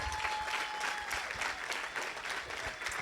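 A church congregation applauds during a Spanish-language sermon, sustained dense clapping at a steady level with a faint tone and some voices mixed in.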